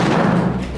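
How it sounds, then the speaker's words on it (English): A camera topples over and strikes the ground at a nail-gun testing session, one short dull thud. "Luckily the camera's okay after that fall."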